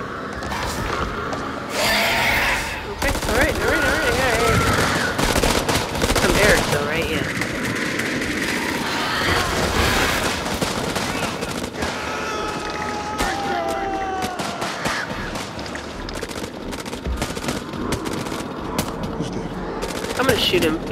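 Rapid gunfire in the horror game House of Ashes crackles in dense overlapping bursts for about twenty seconds, mixed with a busy, loud wash of combat noise and effects.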